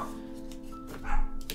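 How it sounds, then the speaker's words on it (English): Dogs barking excitedly somewhere nearby, a few short yaps over a steady droning background, rising briefly louder near the end. "Dogs are going crazy. I don't know why."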